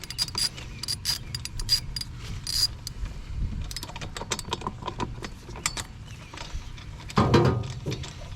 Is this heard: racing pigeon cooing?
no